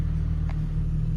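An Infiniti G35/G37 engine runs at a steady idle, giving a close, continuous low rumble with an even hum throughout the short moment.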